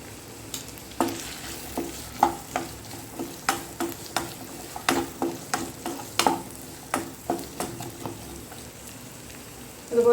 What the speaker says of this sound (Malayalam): വെളുത്തുള്ളി, ഇഞ്ചി, അതുപോലെ നമ്മൾ ഉള്ളി, അതിലൊന്ന് നല്ല വൃത്തി സോട്ട് ചെയ്തെടുക്കണം.